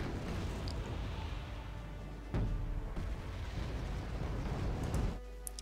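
In Wargame Red Dragon, anti-tank missiles fired from T-64BV tanks strike a target with heavy booming impacts, a sharp blast near the middle and another near the end over continuous rumbling battle noise.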